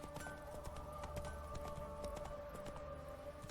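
Horse hooves clip-clop at a steady gallop in The Witcher 3, a continuous rhythmic patter of close, even beats held at moderate level under a faint tonal drone, with no voices.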